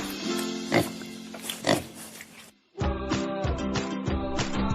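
A pig in a pigsty grunts and oinks repeatedly, rough snorting calls in a busy farmyard, then after a brief silence more rapid low grunts continue, close and loud.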